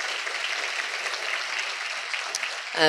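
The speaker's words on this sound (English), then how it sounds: "please give them a round of applause too" Applause from an audience at a mayor's community engagement workshop and neighborhood awards event, steady dense clapping filling the room for about three seconds before a short tonal sound at the very end.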